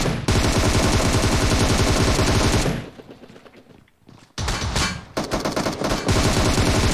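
Rapid automatic gunfire in PUBG on the Georgopol map, loud, dense bursts that stop for a stretch of near quiet before more volleys and scattered shots return.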